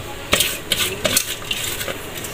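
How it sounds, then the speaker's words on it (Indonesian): Moringa leaves go into a boiling pot of corn for a clear vegetable soup, with a few light metallic clinks and knocks of a utensil against the pot over a soft, steady bubbling hiss. "kita masukin daun kelornya ya, seperti ini"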